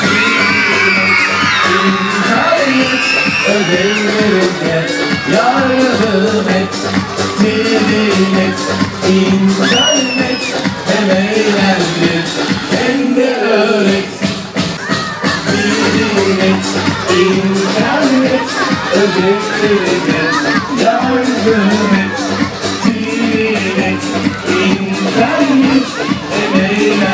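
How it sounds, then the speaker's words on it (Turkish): A crowd of children at a puppet show for 23 Nisan celebrations screams and shouts together, loud and sustained for the whole stretch, with whoops and yells layered over one another. "Seyirci hep beraber çığlık, hazır çığlık!"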